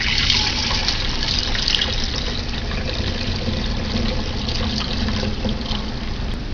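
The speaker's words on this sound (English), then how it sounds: "I'm actually going to pour that into a gallon glass jar with one hand if I can." Rejuvelac, a fermented grain drink, pours in a steady, loud gush into a gallon glass jar, a continuous splashing liquid stream held at even level for several seconds with no talking.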